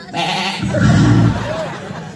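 A goat bleats once in a long wavering cry at a Balinese Calonarang temple performance, close and loud, with crowd babble and voices around it.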